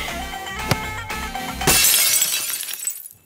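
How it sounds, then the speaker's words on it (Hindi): Glass shattering in a Hindi film comedy scene: a sharp crash breaks out over background music and scatters into a bright, trailing spray of falling shards that fades away. "महीने में 12वीं बार कांच टूटा है।"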